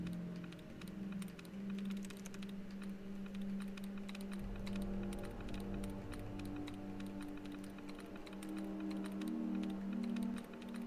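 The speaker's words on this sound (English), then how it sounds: "This clicky mechanical keyboard sound." Clicky mechanical keyboard typing sound effect in the video game Fallout 76, a steady stream of quick light clicks over a soft humming background, with no talking.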